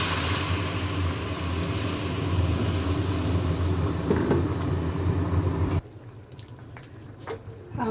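Hot water is poured into a cooking pan of spiced paneer and cream, making a steady rushing splash for about six seconds that cuts off abruptly, followed by faint quiet clatter.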